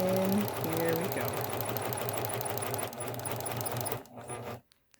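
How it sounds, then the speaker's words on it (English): A sewing machine stitches the bottom seam of a 3D fabric mask, its motor whirring in a fast even rhythm with a speaking voice under it, then stopping near the end. "Now we're going to sew up the bottom seam"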